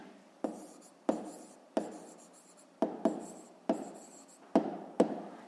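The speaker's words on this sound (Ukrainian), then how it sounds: "записуємо тоді відповідь, пишемо відповідь" A pen scratches out an answer to a fifth-grade math word problem, about eight brisk strokes in an even rhythm, close and clear with no talking.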